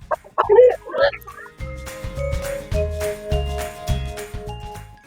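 Hens clucking in a school henhouse, a few bursts of bird calls early on over a steady background of other noise, fairly close and moderately loud.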